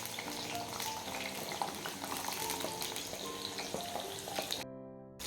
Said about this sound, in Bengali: এইবারে এর মধ্যে আমি আলুগুলোকেও এভাবে লাল লাল করে ভেজে নেব, আর তারপর এইভাবে এক এক করে সবজিগুলো সব ভেজে নেব